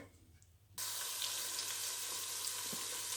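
Chopped onions dropped into hot oil in a pan for gobi pulao, bursting into a sudden loud, steady sizzle that carries on evenly after a quiet start.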